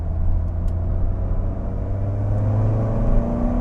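Turbocharged VW Alltrack pulling in fourth gear under boost, a loud continuous low engine drone rising gradually in pitch as revs climb over a few seconds, heard from inside the car.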